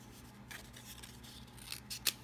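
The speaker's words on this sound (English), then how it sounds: "Cut the paper towel." Scissors snipping through a paper towel, a few quiet, close crisp cuts that grow louder toward the end, with no voices.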